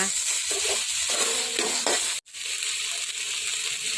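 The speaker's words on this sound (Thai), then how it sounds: "ผัดเราไม่ต้องเติมน้ำนะคะ เราจะผัดเป็นแห้งๆนะคะ" A dry filling for a stuffed Thai omelette is stir-fried in a pan without water, giving a steady close sizzle with scraping, broken by a brief cut of silence midway.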